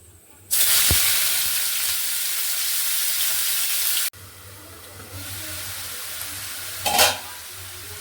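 Whole spices for tempering drop into hot oil with a sudden loud, close sizzle that holds for about three seconds before dropping to a softer steady fry, followed by a brief sharp hiss near the end.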